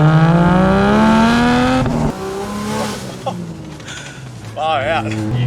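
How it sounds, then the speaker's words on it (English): A turbocharged 4x4 engine pulls hard with strong harmonic rises under acceleration, then drops off and revs again, loud and close, with people talking over the engine throughout. "it's a turbo car"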